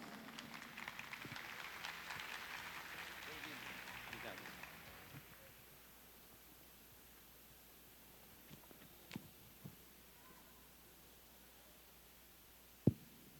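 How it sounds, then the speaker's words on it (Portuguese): Audience applause greets Padre Vanildo Paiva at a catechesis and liturgy talk, a dense, steady patter of clapping that fades out after about five seconds, leaving a quiet hall with a few faint knocks and one sharp bump near the end. "Salva de palmas."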